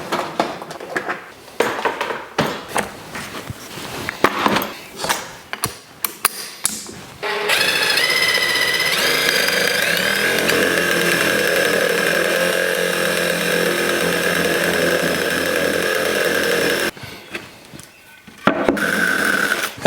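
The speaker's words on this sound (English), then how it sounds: "where those 2 lines intersect is where we would drill our hole to fit our dowel" A power drill bores a hole into the center of a wooden wheel for a dowel on a planter box rebuild. Taps and knocks come first, then a loud sustained whine runs for about ten seconds before cutting off, with more handling clatter afterward.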